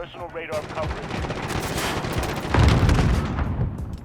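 Video game gunfire: sustained rapid shooting with machine-gun bursts and heavier booming blasts, loud and continuous for several seconds, growing denser toward the end.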